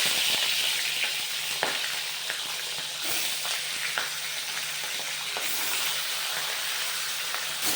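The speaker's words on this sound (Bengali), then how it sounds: "একদমই সাদা করে মাছটা হালকা একটু ভাজবো" Fish seasoned only with salt and lemon juice fries in hot oil, a steady loud sizzle and crackle running throughout with occasional sharper pops and no talking.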